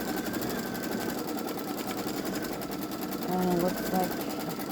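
A Baby Lock Solaris Vision embroidery machine hums steadily while triple-stitch outlining, with a person speaking over it.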